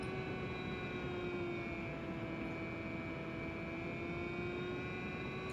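An Eagle FPV fixed-wing airplane cruising, a steady droning motor tone with a sustained whine that holds nearly constant throughout, with no voices.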